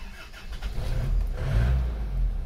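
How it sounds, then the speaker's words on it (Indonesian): An Isuzu Panther diesel engine with a compression leak cranks and starts, catching quickly and settling into a loud, rough rumble close by, with no talking. "Mari kita starter, kondisinya bagaimana, silakan dilihat sendiri."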